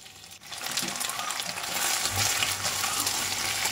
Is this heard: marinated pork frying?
yes